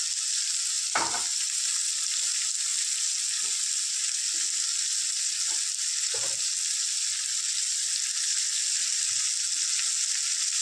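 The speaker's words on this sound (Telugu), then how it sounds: "ఇంకా కొద్దిసేపు ఆనియన్ ఫ్రై చేద్దాం" Onion and capsicum fry in a pan with a steady, even sizzle throughout, broken by a few soft stirring knocks and scrapes, close and moderately loud with no talking.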